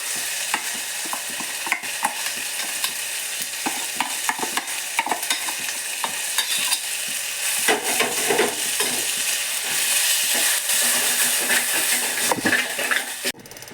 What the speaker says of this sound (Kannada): ರುಬ್ಬಿರುವ ಮಸಾಲೆಯನ್ನು ಎಣ್ಣೆಯಲ್ಲೇ ಫ್ರೈ ಮಾಡ್ಕೋಬೇಕು ಸ್ವಲ್ಪ.